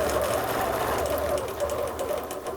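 Sewing machine running steadily while machine quilting fabric with a quilting ruler, a close, even mechanical whirr with a faint rhythmic needle patter, no talk.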